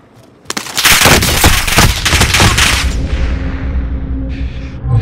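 Incoming artillery rounds in the Warzone video game, a loud dense barrage of rapid blasts and crackling impacts lasting several seconds, then a fading rumble.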